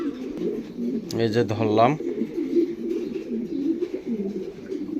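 A four-month-old stencil Lahore pigeon gives a short burst of rising, stacked cooing near the start, close and fairly loud, then falls quiet while a person keeps talking over steady background noise.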